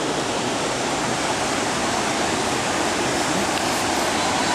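Natural waterfall at Cascades de Man in Côte d'Ivoire, a loud, continuous rushing roar of falling water filling the whole span without pause or voices.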